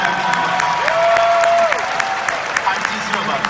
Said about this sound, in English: Can you make a big kind of applause for them?